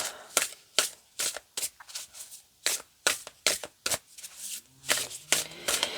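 Cards being shuffled close up, a steady run of crisp riffling snaps in quick regular bursts, with no talking.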